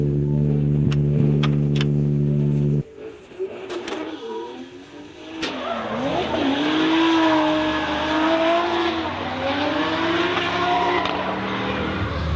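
A Nissan S14 with a 2JZ engine making 800 horsepower drifts, giving a loud droning engine note that cuts out abruptly, then long wavering tire squeals sweeping up and down as it slides.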